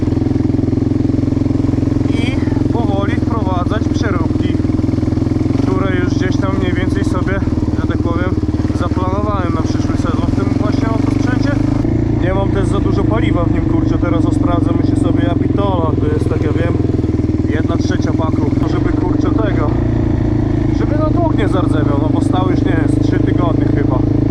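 A quad bike (ATV) engine runs steadily throughout a ride, a constant loud drone close by, with someone talking over it almost continuously.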